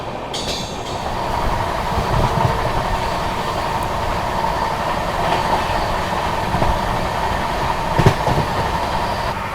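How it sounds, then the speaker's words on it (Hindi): The Vikramshila Express, train 12368 from Anand Vihar to Bhagalpur, running through Tundla Junction without stopping: a steady, loud rolling rumble with wheel clatter and a brief sharp squeal near the end. "यहाँ स्किप कर दिया है टूंडला जंक्शन रेलवे स्टेशन को अपनी विक्रमशिला एक्सप्रेस ने"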